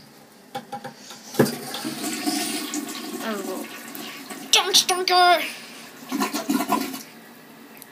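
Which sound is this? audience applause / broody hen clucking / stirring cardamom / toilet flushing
toilet flushing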